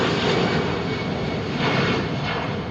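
Irish airliner on the Dublin route at Heathrow runway 27R, a loud continuous broadband engine roar with no talk, sustained through the whole moment.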